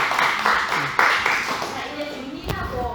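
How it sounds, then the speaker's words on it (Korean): Brief clapping from a small group at a Korean church gathering, a short burst of hand claps mixed with talking voices, fading out quickly. "우리 간사명에게 박수."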